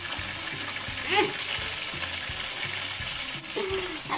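Korean-style chicken sizzles and crackles steadily in hot oil in a pan, a dense close frying hiss with faint background noises and no clear talk.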